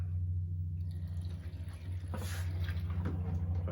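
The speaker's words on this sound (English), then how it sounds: "I'll pump a little water in there." Water pumped into a gold sluice, a low steady pump hum underneath with brief splashing and trickling bursts partway through, quiet and close.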